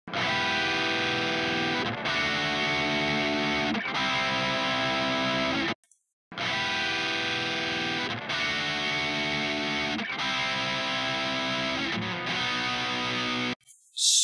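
Heavily distorted electric guitar open chords strummed through an amp attenuator and left ringing, loud and sustained, with a brief silent gap midway before the chords resume.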